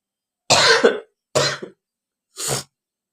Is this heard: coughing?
yes